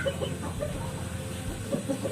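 Chickens clucking in short, scattered calls over a steady low background hum, fairly close and moderately loud.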